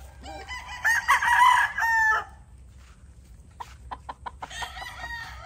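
A young straight-combed gamecock stag crows loudly and close by in one long, strained call, followed by a quieter run of short clucks and calls from other birds on a farm.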